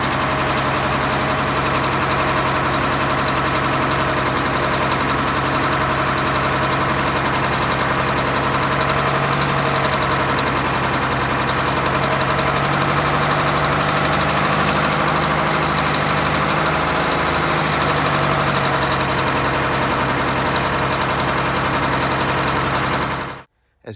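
A Detroit Diesel 8V92 in an MCI bus idles unevenly, its steady rumbling drone dipping and surging now and then, close and continuous for over twenty seconds before cutting off abruptly.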